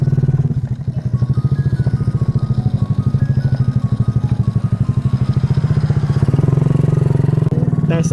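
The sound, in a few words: custom Monkey Bobber motorcycle on a test ride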